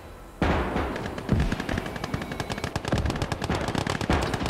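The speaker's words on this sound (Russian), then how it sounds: "Да, хорошо, пушечка наша тут долбит" Rapid automatic gunfire and cannon shots in a WWII strategy video game, with a sudden loud onset followed by dense, rhythmic bursts of sharp reports that continue steadily throughout.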